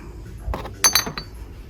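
Glass soap dispensers clink against each other on a store shelf, a few quick bright taps and a light chime over quiet room tone, close and fairly clear.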